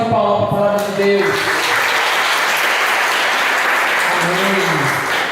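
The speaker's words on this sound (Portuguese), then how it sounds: "Pode dar aquela nossa salva de palmas para a palavra de Deus." A church congregation applauding after a Bible reading during a sermon, loud dense clapping that fills the whole stretch without a break, with a voice faintly heard under it at the start and again near the end.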